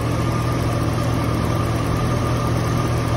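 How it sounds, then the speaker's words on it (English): A 1986 Corvette convertible pace car engine idles steadily, a constant close rumble with a faint mechanical hum and no voices over it. "So here we are, the motor's running"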